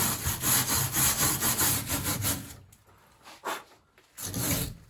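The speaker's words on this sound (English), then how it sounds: "I'm just going to hit it along the flange with a wire brush" A wire brush scrubs back and forth along the metal flange of a 1955 Buick Special's rear body crossmember, with rapid, loud rasping strokes, a short pause, and then more scrubbing.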